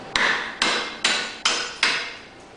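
Slate hammer, a Gilbert and Becker or Storz type, trimming a roofing slate over a steel slater's stake: five sharp, evenly spaced cracking strikes about half a second apart, each with a short ringing decay, no talk.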